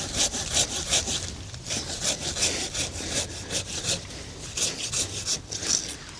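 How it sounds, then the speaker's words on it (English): A hand saw cuts through a tree trunk at its base in an agroforest, with rapid, rhythmic rasping strokes, close and steady. "now that all the weight's been taken off, you just cut at the base."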